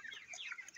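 Chickens cluck in a series of short, nasal calls, fairly close and steady, with no voices over them.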